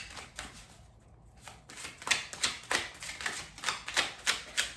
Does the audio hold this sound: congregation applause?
no